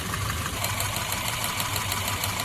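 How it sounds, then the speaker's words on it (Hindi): A Honda City engine idles with ignition coil number 1 pulled, a misfire fault from a leaking coil. The low mechanical hum is steady and close, with no talk over it. "अब मैं एक एक कॉइल निकाल के चेक करूँगा कि हमारा इंजन मिसफायर किससे हो रहा है।"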